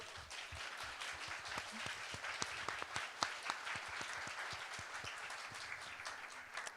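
Soft applause from an audience at an artist talk, a fairly sparse patter of individual claps with distinct sharp hits standing out, continuous and faint throughout.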